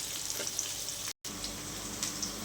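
Sliced onions and okra frying in seasoning oil for sambar, a steady soft sizzle with faint crackles, briefly cut off by a split-second dropout midway.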